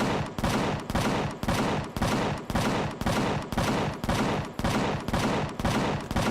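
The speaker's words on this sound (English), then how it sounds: "I wish I could set the cannon turret to open fire when they're a little bit closer." Rapid, evenly spaced bursts of heavy gunfire from a cannon turret in the video game Empyrion, about eight booming volleys in a steady rhythm, loud and close with no talking.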